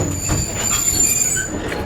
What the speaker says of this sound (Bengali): মোংলা রেলওয়ে স্টেশনে দাঁড়িয়ে আছে আমাদের আজকের মোংলা কমিউটার ট্রেনের